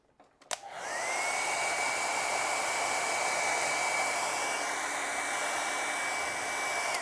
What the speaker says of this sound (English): and then take the hairdryer